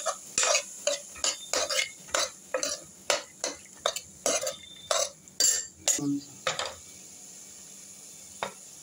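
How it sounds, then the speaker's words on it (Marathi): Chickpeas are stirred into masala in a pan for a ridge gourd bhaji, with a quick series of sharp spoon scrapes and clanks against the pan, evenly paced, close and clear, then tapering into quieter sizzling. "आता यात चणे घालूया व मसाल्यामध्ये व्यवस्थित मिक्स करून घेऊया।"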